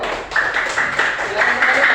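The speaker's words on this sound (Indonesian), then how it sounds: "beri tepuk tangan dulu untuk saudara kita" An audience claps in a classroom session, a short burst of applause close by, with a voice speaking over the clapping.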